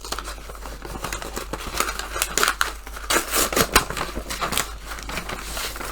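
Scissors snip and cut through crinkly packaging while a paperback book is unboxed, with irregular close crisp cuts and rustling that build in loudness, no talking.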